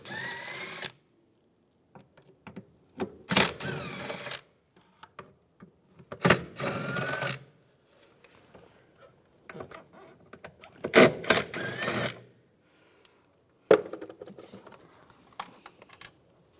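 Removing screws with a T30 socket from a 2004-2010 BMW X3 during starter replacement: several bursts of ratcheting and clicking, some a second or longer, a few sharp clacks, with quiet gaps of faint handling noise between them, close up.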